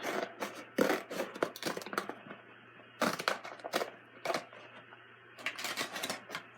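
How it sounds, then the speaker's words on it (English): Scissors snip and crunch through stiff plastic toy packaging in quick irregular bursts, with brief pauses between cuts, close up. "cut this open with some scissors"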